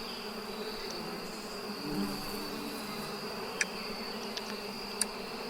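Bees fill a beehive in the APICO beekeeping video game with a steady, continuous buzzing drone, punctuated by a few faint clicks from the game.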